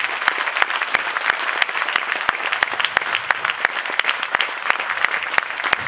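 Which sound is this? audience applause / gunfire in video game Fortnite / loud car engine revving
audience applause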